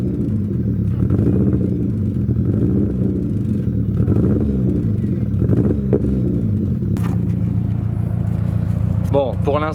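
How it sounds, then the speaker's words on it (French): Nissan S13 with a CA18 engine, revved lightly and held low, a steady close rumble with a few small throttle blips and some clatter, limited to about 2000 rpm. "Je vais juste accélérer un peu pour vous faire entendre vite fait le bruit."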